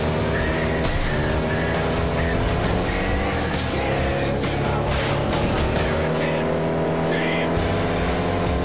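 Race car in the FlatOut 2 video game racing with a loud, continuous engine roar and tire skids, sliding and squealing throughout, close and alone without talk.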